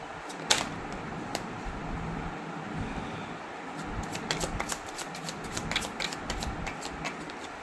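Tarot cards being shuffled by hand close up, a continuous papery riffle with scattered sharp snaps and clicks as the cards slap together, quiet and steady with no speech.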